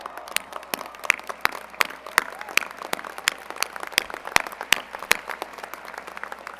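Scattered audience applause at a university spring commencement ceremony in a large space, with sharp individual claps sounding sparse and uneven beneath an ongoing speaking voice.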